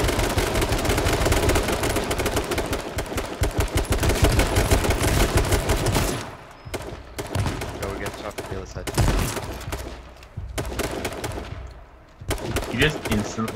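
Rapid bursts of automatic gunfire crackle densely through a video game shootout, with loud sustained firing for the first half and then sparser, sharper volleys amid players talking.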